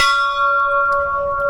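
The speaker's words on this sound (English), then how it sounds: "It says that if you ring the bell, your wish will be completed by the God." Hindu temple bell at a Lord Shiva shrine, struck once hard so it rings loud and close, its bright metallic tone sustaining and slowly fading with no voices over it.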